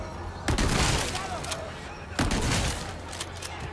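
Gunfire in the survival horror game Resident Evil 4 Remake: two loud, sharp shots about two seconds apart, each followed by a long rumbling echo and dense clatter, with no voices over it.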